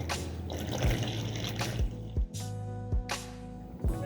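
Lukewarm water poured steadily into a well of flour for dumpling dough, a continuous close trickle with a few soft thuds breaking the flow.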